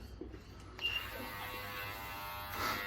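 Brio Beardscape beard trimmer running close by, a steady faint electric buzz lasting the whole few seconds with small shifts in tone.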